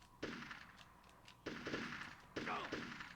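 Game Boy Color shooter gunfire, three separate bursts of rapid crackling shots at a steady interval, loud and close, with no one talking.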